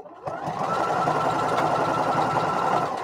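A sewing machine stitches a basting line along a seam allowance, running in one steady, unbroken whir close by after a brief start.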